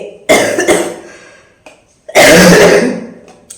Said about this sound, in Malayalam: എനിക്ക് ചുമയുണ്ട് കേട്ടോ. ചുമ അങ്ങോട്ട് മാറിയിട്ടില്ല.